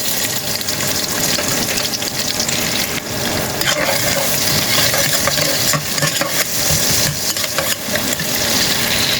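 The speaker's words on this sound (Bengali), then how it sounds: "দিয়ে দিলাম পেঁয়াজ" Onions sizzling in hot oil for prawn biryani, a steady loud frying hiss with stirring scrapes throughout, no talk.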